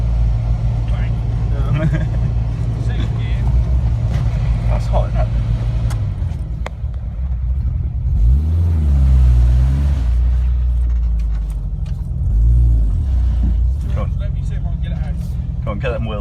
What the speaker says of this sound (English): get them wheels spinning